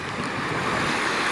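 Wind gusts and breaking waves on the Baltic Sea coast on a breezy day make a brief, steady wash of surf and rushing air, fairly soft and without voices.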